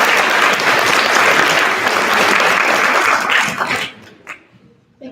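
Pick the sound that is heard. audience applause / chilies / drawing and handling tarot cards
audience applause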